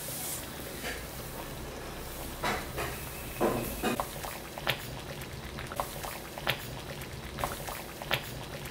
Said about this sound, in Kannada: ನೀರು ಸಹ ಕುದೀತಾ ಇದೆ